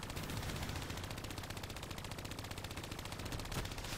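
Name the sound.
gunfire in video game Call of Duty Black Ops III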